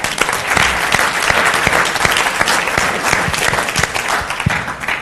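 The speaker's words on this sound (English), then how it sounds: "let's give him a round of applause" Audience at a dating-techniques seminar applauds loudly and steadily, a dense crowd of clapping that fills the whole stretch without letting up.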